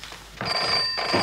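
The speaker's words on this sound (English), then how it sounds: "The phone. The phone." A telephone bell rings in a 1983 British police comedy, a steady electric trill starting abruptly partway through and continuing loudly to the end, with no talk over it.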